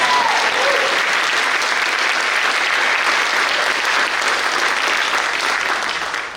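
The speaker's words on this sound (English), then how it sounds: "Robynne Graffam, class of 1986. Yeah, give her a round of applause." Audience at a 25-year celebration breaks into loud, dense sustained applause that holds steadily for several seconds before starting to taper at the end.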